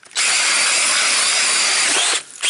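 An ice auger drills loudly and steadily through ice while ice fishing, about two seconds of harsh high whir that briefly dips before the end.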